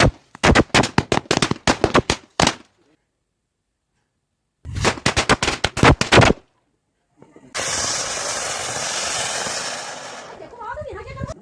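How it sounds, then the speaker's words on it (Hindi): Diwali firecrackers and big bombs bursting outdoors in Uttarakhand, loud rapid strings of sharp cracks in two bursts separated by silence, followed by a long steady hissing roar and a few faint calls at the end. "पटाखे जलाए।"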